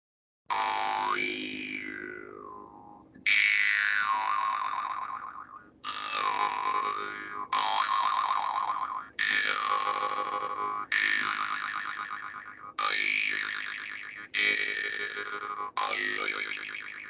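Overtone instruments sound in a series of about nine separate resonant tones, each starting sharply and then ringing with shifting, singing overtones that bend in pitch. The tones are loud and close, with short gaps between them and no talk.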